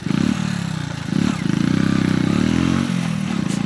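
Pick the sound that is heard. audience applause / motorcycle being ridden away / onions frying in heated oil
motorcycle being ridden away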